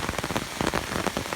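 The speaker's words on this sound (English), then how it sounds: "So look at all this rain." Heavy rain from approaching Hurricane Florence falls on surfaces, a dense close patter of drops with scattered louder splashes throughout, no voices.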